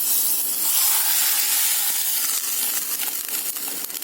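Fried tuvar dal tempering poured into rasam gives a loud, steady hiss of sizzling that stays strong throughout and eases slightly toward the end, up close with no talking.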